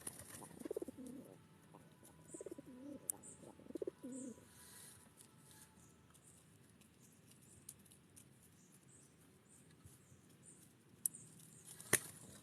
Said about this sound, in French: Il y a pas mal d'oiseaux par contre,